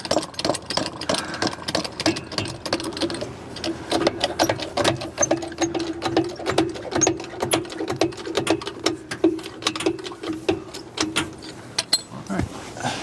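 A jack lifts a Montana fifth wheel trailer, giving a steady run of rapid mechanical clicking and whirring at close range for about thirteen seconds, with a faint low hum beneath.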